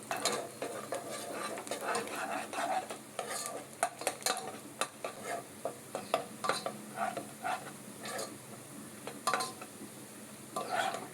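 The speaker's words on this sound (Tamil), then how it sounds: "இப்போ வெங்காயமும் நல்லா பொன்னிறமாக வதக்கியாச்சு." Onions sautéed in a pan until golden for drumstick chicken masala, with a spatula scraping and stirring in repeated strokes over a soft, steady sizzle.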